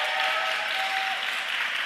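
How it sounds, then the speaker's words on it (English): Crowd applause at an award ceremony in Birmingham Town Hall, a dense, even roar of clapping from a large hall audience held at a constant level, with a faint tonal hum beneath and no talk. "Please give a massive round of applause to Xander"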